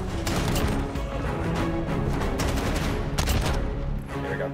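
Dense rapid gunfire from Call of Duty: Modern Warfare, continuous overlapping shots and bursts filling the whole stretch, loud and close with no pauses.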